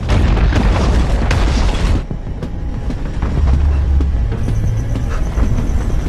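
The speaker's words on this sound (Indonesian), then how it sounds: "sebelum menara itu runtuh" A tower collapses in an action film: a loud, dense rumbling crash with heavy low booms for about two seconds, then a lower, steadier roar of settling debris and impacts continuing to the end, with no speech.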